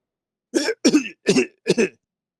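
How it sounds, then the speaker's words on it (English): A character in the video game Echo Project gives muffled coughs, four short close bursts in quick succession that sound like a strained throat clearing. "Carl gives me a muffled cough, though."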